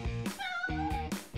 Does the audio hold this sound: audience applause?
no